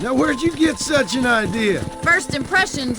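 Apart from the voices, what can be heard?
No distinct noise like a dog, phone or traffic.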